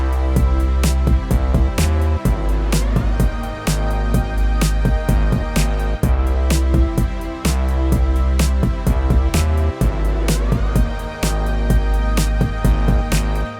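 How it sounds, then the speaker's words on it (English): A programmed drum beat playing back in a music production setup: a steady looping groove of punchy kicks, snares and hi-hats over sustained tonal music, loud and alone with no talk. "I have this beat and it sounds like this."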